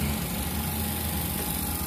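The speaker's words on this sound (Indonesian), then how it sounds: "Matikan mesin vakum." A vacuum pump evacuates the cooling system of a showcase refrigerator during repair, running with a steady, even mechanical hum and buzz close by.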